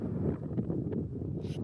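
Low, blustery wind buffeting the microphone outdoors on an open prairie, a continuous rumbling roar with faint rustling.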